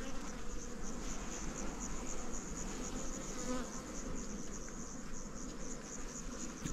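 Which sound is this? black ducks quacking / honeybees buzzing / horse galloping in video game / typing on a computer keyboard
honeybees buzzing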